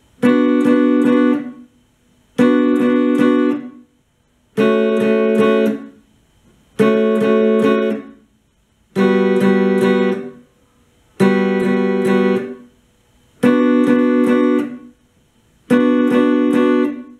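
A guitar riff played as eight strong, evenly spaced chordal bursts with short gaps between them, loud and close, with no voices.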